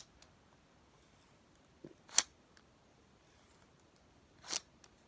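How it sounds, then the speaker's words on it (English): A tape measure is pulled out and retracted, giving a soft tick then two sharp, close snaps a couple of seconds apart, with quiet between them. "We've got a tape measure."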